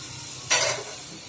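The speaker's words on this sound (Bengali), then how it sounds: "শুটকিগুলি কড়াইয়ে দিয়ে দিচ্ছি।" Dried fish dropped into a wok gives a sudden, loud sizzling burst that fades over roughly a second into a low background hiss.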